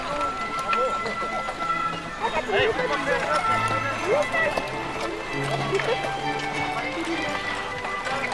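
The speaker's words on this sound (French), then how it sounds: "vous voyez que les chevaux de trait, quand ils sont bien entraînés" Trained draft horses run with a steady clip-clop of hooves that is loud and continuous, mixed with busy outdoor crowd noise and voices throughout.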